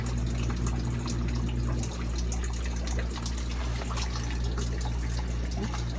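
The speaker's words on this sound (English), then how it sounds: "So we'll see what happens when the water fills up again." Water pouring and trickling into a fish room sump, a steady close splashing flow with a low pump hum underneath that continues throughout.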